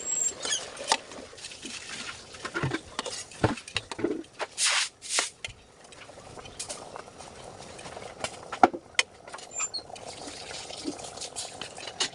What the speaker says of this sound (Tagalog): Lagyan ko lang ng konting mantika. Saka natin ilalagay yung ating pasta.